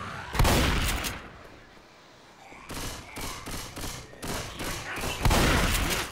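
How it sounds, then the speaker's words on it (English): Bursts of gunfire from Left 4 Dead 2 crack out in rapid volleys, a loud opening burst followed by a quieter lull, then repeated sharp shots and a heavy closing barrage. "I know that was you shooting me."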